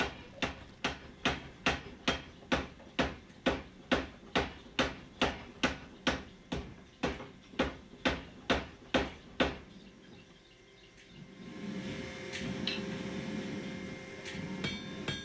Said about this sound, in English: the billet was just kind of telling me that it wanted to be hit by hand a little bit